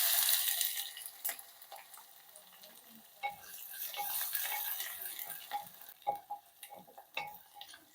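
Crushed garlic and green chili fry in a clay pot, opening with a bright sizzle that fades into quieter crackling, punctuated by spoon taps and scrapes against the pot.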